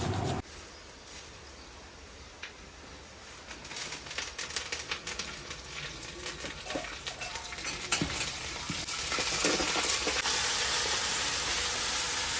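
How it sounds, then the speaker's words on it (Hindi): Hot oil sizzles and hisses loudly after a quiet start, joined by a few clinks of a utensil, as lentils are tempered in the pan. "ये दाल में तड़का लगा रहे हैं"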